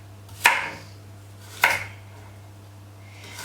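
A knife chops fennel, peppers and courgettes on a board, with two sharp, close cuts a little over a second apart and a third starting at the end, over a low steady hum.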